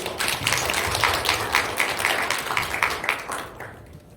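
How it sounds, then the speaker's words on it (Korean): An audience at a small-business digital training lecture gives a short round of applause, a moderate patter of clapping that fades out after about four seconds. "박수 한번 주시죠"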